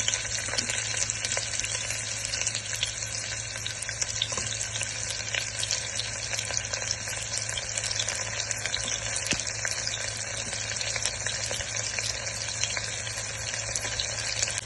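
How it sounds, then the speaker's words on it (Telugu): Onions fry in hot oil with cardamom and bay leaf for a vegetable biryani, giving a dense, continuous close-up sizzle that holds steady throughout. "ఫ్రై కాగానే ఆనియన్స్ యాడ్ చేసుకున్నాను"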